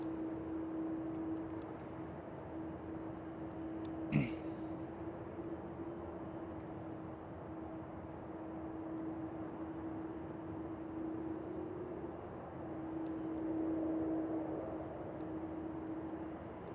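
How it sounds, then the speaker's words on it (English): A Boeing 737-900 airliner in SkyTeam livery at Schiphol Airport, heard from a parking garage as a steady distant jet drone with a sustained tone, one sharp knock midway, and a swell in loudness near the end. "Ah, the SkyTeam livery. That means it is a 737-900"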